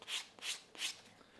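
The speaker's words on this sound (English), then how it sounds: "Just gonna lightly sand off the char" Sandpaper lightly rubbed along the charred edge of laser-cut leather, three close, soft rasping strokes in an even back-and-forth rhythm over quiet surroundings.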